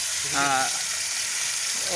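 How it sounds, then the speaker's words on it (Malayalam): Steady hissing sizzle of food frying in hot oil, close and fairly loud, with a brief voice-like tone rising over it. "തിളച്ച എണ്ണയിലേക്ക് നമ്മൾ ഇങ്ങനെ ഓരോന്നോരോന്നായി ഇട്ടുകൊണ്ടിരിക്കുകയാണ്."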